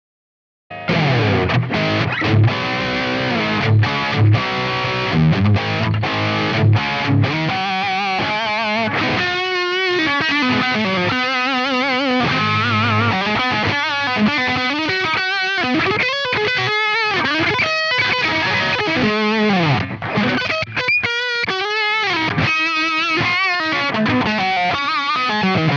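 An electric guitar played through a Line 6 Helix running the Peavey 5150 amp model plays heavily distorted, compressed chords and riffs. The guitar is loud, close and continuous, with palm-muted chugs and ringing notes.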